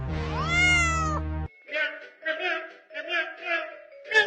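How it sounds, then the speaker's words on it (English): A cat stuck in a tree meows in a long, loud, drawn-out cry, followed by a series of shorter rhythmic mewing calls, close and clear. "That cat's stuck in the tree!"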